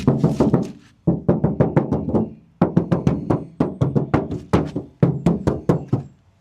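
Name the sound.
knocking on car door panel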